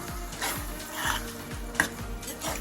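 Spoon stirring lemon juice into a pot of yellow moong dal curry, a steady run of soft scraping strokes against the pan with a few light clinks, close and with no talk.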